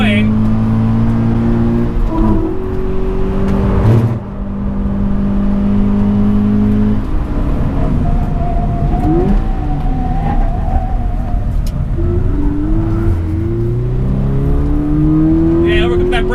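Subaru engine of a 2020 Toyota 86 TRD Handling Package on track, revving hard through rising and falling gear sweeps with shifts, loud and close from inside the cabin, with someone talking over it.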